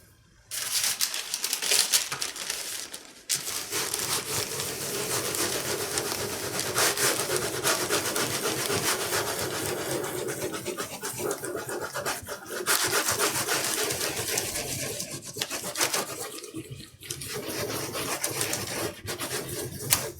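A baren rubbing paper over an inked woodblock in Japanese printmaking, a close, steady scratchy scrubbing with long continuous strokes and brief pauses, no talking.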